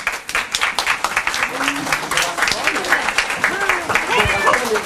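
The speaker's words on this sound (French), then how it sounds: "on peut applaudir tout le monde très fort" Audience at a singing contest in a cabaret venue applauding and cheering, dense sustained clapping mixed with whoops and voices throughout, fairly loud and close.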